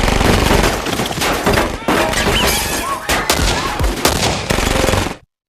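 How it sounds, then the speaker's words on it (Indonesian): Gunfire bursts rapidly during a film shootout and fight between a hero and gang members in a hotel, dense loud volleys and shots with crashing impacts, ending abruptly in silence. "Terjadi baku tembak dan perkelahian antara Jason dan para anggota Chang"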